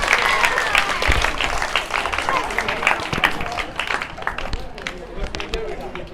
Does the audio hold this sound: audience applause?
yes